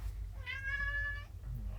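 A cat meows once, a clear drawn-out call lasting under a second, heard close and loud over a steady low background hum with no talking.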